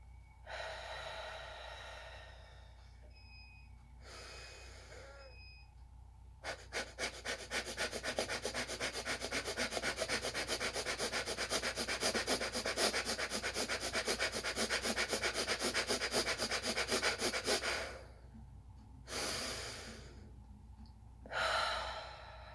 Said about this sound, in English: inhale and exhale very quickly in and out through your nose